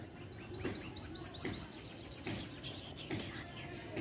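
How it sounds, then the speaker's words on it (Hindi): Birds chirp in a home kitchen garden bed, with repeated quick tweets and short trilling calls close and clear over soft background noise. "चिड़ियों की आवाज़ आ रही है।"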